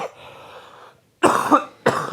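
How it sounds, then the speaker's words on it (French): Two loud close coughs from a man on a French-language hockey podcast, a sharp burst followed by a shorter second one, after a stretch of softer throat noise. "je vais tousser"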